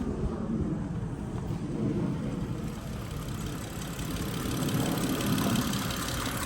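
A car engine idles steadily nearby, a constant low rumble with no change in pace, no voices over it.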